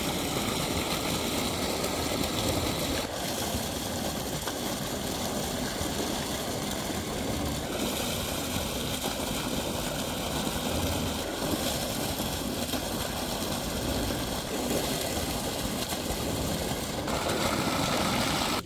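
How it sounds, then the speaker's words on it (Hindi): A farm tube well pump engine runs continuously, pushing out a 3-inch stream of water; its steady, loud, droning rumble stays constant throughout, with no talking. "ये कंटिन्यू चल पड़ा भाई टीवल हमारा।"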